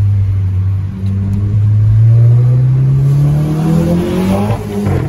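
2016 VW Golf 7 GTI with a stainless steel exhaust accelerating hard from a standstill, a loud, close engine drone rising steadily in pitch through the gear, with a brief dip before climbing again.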